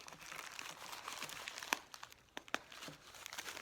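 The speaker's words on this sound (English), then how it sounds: "I'm just going to use some masking tape" Masking tape crinkles and tears as it is pulled and pressed onto a paper mache sculpture, soft close crackling with two sharper rips standing out.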